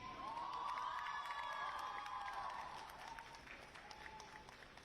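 A crowd at a fashion institute convocation applauds and cheers an award winner, with sustained clapping and a few whoops that slowly fade toward the end.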